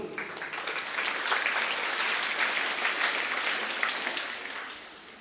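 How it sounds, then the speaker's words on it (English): Sustained crowd applause at a school's annual sports day valedictory, a dense steady clapping that swells and then fades out near the end. "I must say a big round of applause to the whole Little Rock team."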